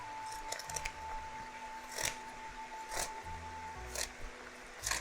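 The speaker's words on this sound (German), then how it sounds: "Ich schneide mit einer Schere" Scissors snip through sheets of dried nori seaweed at close range, giving about five crisp, separate cuts spaced roughly a second apart in a quiet room.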